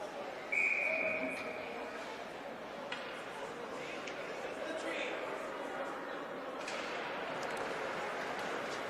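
A referee's whistle stops play in a youth ice hockey game between the Panthers and the Orange Lutheran Lancers, one short clear blast over the crowd's murmur and the rink's rumble, with a commentator talking.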